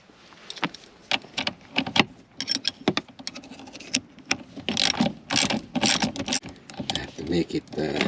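Close, rapid ratchet clicking in bursts while tightening a nut on a shifter cable fitting for a 1994-97 Honda Accord cable setup with a short shifter in an RSX, with brief pauses and a voice talking between bursts.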